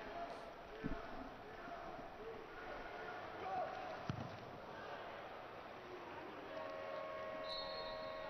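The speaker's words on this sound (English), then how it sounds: "So the hooter sounds," At the end of an Olympic men's water polo quarter-final between Italy and Hungary in London in 2012, a hooter sounds as a sustained tone late in the clip. It plays over a distant, rumbling arena crowd and a commentator's voice.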